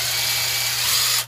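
Close, steady whir of an electric drill spinning a broken bit into a homemade crystal radio build, continuous and loud for about a second before cutting off abruptly.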